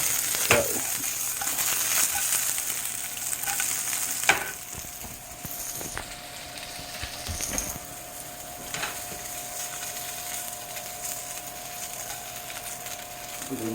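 Johnsonville jalapeno cheddar sausages sizzling in a hot pan, a steady loud crackling fry throughout with a few sharp pops and utensil clicks, no voices.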